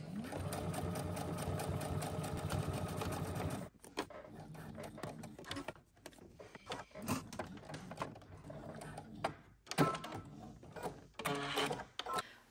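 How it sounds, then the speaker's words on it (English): A sewing machine edge stitches around a fabric bounding box while sewing a zipper in place on a Simplicity S9638 jacket, running in a steady loud burst, then in shorter start-stop runs with pauses. "we're going to head to the sewing machine and we're going to edge stitch around our bounding box"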